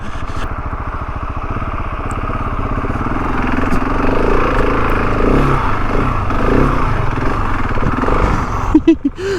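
KTM 690 Enduro R single-cylinder motorcycle climbing a rough uphill trail at Benton City, its engine loud and close, rising steadily in revs and ending in a clatter.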